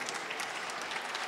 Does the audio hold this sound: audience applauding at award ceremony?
yes